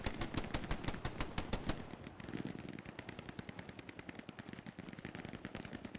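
Rapid automatic gunfire crackles in the Hell Let Loose World War II shooter during an 18 vs 18 clan match, a dense bursting stream of shots that thins slightly after the opening seconds but keeps rattling throughout, with no talk.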